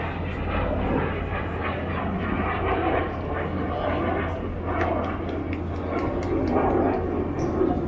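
RAF Red Arrows jets fly in formation at the Canadian International Air Show, giving a loud, continuous roar of jet engines that stays steady and broad throughout with no break.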